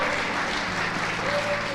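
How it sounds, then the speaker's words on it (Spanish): A church congregation applauds together in steady, dense clapping that fills the whole moment, loud and close, with faint voices mixed in. "Bríndele un fuerte aplauso al Señor."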